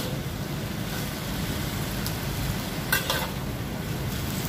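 Bitter gourd sizzles steadily in a frying pan while being stirred, a continuous hissing fry close by with a couple of brief utensil clinks against the pan.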